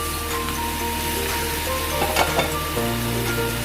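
Potato and carrot pieces stirred in a frying pan for chicken curry, a dense continuous sizzle with a few soft scraping knocks of the spoon near the middle.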